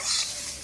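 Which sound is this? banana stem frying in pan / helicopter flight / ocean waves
banana stem frying in pan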